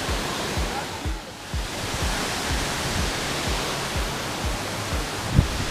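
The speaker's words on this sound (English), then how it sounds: "It's our first view of the waterfall and it looks absolutely incredible." Kuang Si waterfall in Laos roars as a steady, dense wash of falling water, loud and close, with no talk over it.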